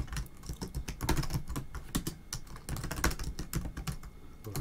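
Typing on a computer keyboard, a fast irregular run of close, crisp key clicks and clacks continuing steadily for several seconds with no speech.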